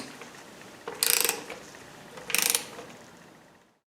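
Two short bursts of metallic ratcheting from a torque wrench tightening bolts to 27 Nm on a 2012 Nissan Versa engine, each a quick clicking run about a second apart, close and fairly loud.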